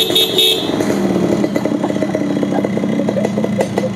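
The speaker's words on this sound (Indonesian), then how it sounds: "Terus klakson saya kasih punya Grand Divina nih 2." A Nissan Grand Livina car horn fitted to a 2002 Yamaha RX King motorcycle sounds after an opening blare, then buzzes in a rapid series of short horn bursts over the idling two-stroke engine, close and loud.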